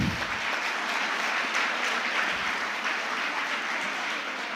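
An audience claps at a Model United Nations conference's closing ceremony after a committee resolution passes, sustained dense applause from a large crowd in a hall with no talking.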